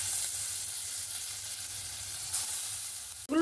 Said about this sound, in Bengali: এবার বাদ বাকি যেগুলো আছে সেগুলো আমি ভেজে নেব।